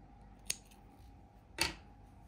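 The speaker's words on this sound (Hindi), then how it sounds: "ये जो कटा हुआ ऊन है हम इसके अंदर ले लेंगे इस तरीके से और यहाँ पे हम इसे काट लेंगे" Scissors snip through wool yarn while making a decorative gate curtain, two crisp close cuts about a second apart, in an otherwise quiet room.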